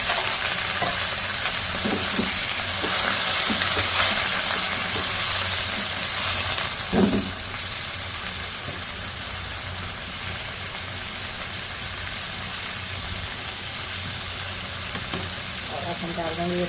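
Chicken and vegetables for Kung Pao chicken sizzle in a pan with a little water added, stirred with occasional scrapes. A louder hissing burst comes midway, then the frying settles into a calmer, even crackle.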